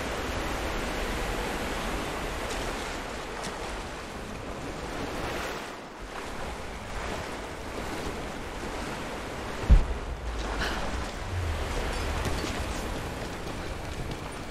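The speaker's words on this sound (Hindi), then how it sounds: "पानी का स्तर बढ़ रहा है" Rushing water from rising floodwater in the Rise of the Tomb Raider game, a steady broadband surf-like roar that holds for the whole stretch, with a brief thud near the end and no talking.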